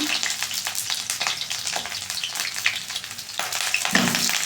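Potato pieces fry in hot oil in a wok, giving a loud, dense, continuous crackling sizzle close up, with a few brief thuds and stirring scrapes as more potatoes go in.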